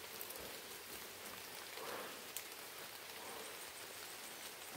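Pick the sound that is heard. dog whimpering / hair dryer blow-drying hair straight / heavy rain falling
heavy rain falling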